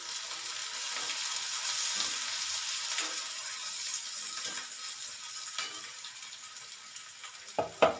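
Curry leaves and whole spices fry in oil for a cauliflower gravy, giving a soft, continuous sizzle with faint crackles and a couple of sharper clinks of a utensil near the end.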